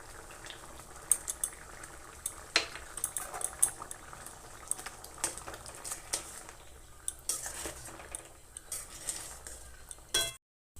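Soybean and pea dal curry with coriander leaves simmering in a pot, a soft steady bubbling with scattered clinks and stirring scrapes of a utensil against the pan, moderately close and without talk.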